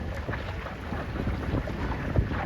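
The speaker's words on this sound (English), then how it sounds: "It's a little windier now than in the pictures" Blustery wind buffeting the microphone at a youth Sabot sailboat race on the water, a constant loud rushing roar with gusty surges and no voices.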